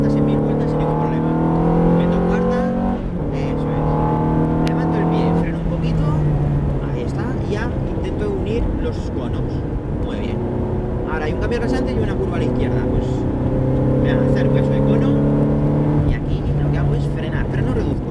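A Ferrari F430 accelerating hard on the Jarama circuit, recorded onboard: a loud, sustained engine note that climbs in pitch through the gears, with brief drops at the shifts and someone talking over it.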